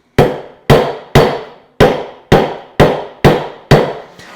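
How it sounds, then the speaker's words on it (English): A hammer drops eight times in an even rhythm onto a bent hand saw resting on an anvil, each strike a sharp, close metallic ring that decays quickly before the next. "I'm actually going to flex the saw a little as I make these strikes"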